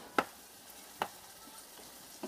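Pepper mixture cooking in a pan gives a faint, low sizzle broken by a few sharp ticking pops, with no voices over it.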